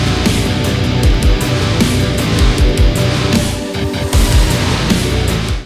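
A remake of a song plays as dense, loud music with heavy low-end hits and a sustained wash across the full range, with no talking.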